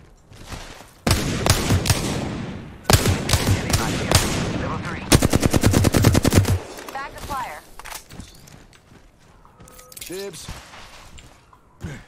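Video game gunfire in a match: bursts of rapid automatic shots and single cracks come loud and close, broken by short pauses, with clicks and metallic rattles around them.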